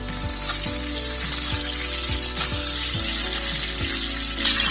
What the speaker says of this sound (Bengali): পেঁয়াজ ভাজা ভাজা করে নিয়েছি, দিয়ে দেবো ভেজে রাখা ফুলকপি আলু।